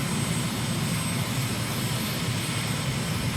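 A steady, unbroken engine roar from an aircraft in Microsoft Flight Simulator, sightseeing over the hills of Lilongwe, Malawi, with loud broadband drone and no pauses or voices.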